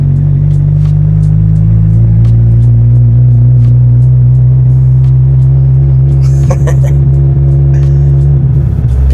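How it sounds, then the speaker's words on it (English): A Mazda Miata's engine drones steadily from inside the car while driving, a loud continuous low hum with faint mechanical ticks, and some brief clattering near the end. "The Miata is such a little toy."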